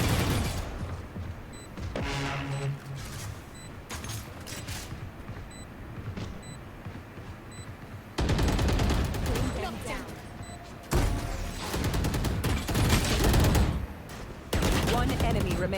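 Gunfire in a shooting video game, rapid bursts and sustained automatic fire that swell loud in the second half, mixed with game effects and occasional voices.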